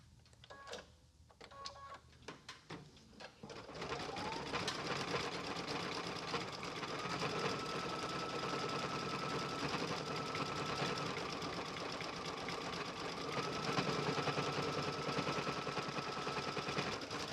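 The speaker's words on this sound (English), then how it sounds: "it's applying extra tacks over where the pocket is, just making sure that the machine goes over and makes all of those stitches smooth" Embroidery machine stitching extra tack stitches over a pocket on a Christmas mailbox quilt block, a steady fast mechanical whir and rapid needle chatter running continuously and loud after a brief quieter start, with no talking.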